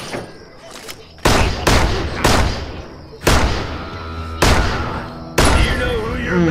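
Loud, close gunfire in the Six Guns video game: about half a dozen sharp shots spaced roughly a second apart, each leaving a short ringing tail.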